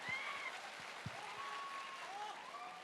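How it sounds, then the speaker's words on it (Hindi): An audience applauds steadily at a stage event, the clapping continuous and fairly distant, with faint tonal sounds and a few low thumps over it. "एक बार जोरदार तालियां और बजा लो"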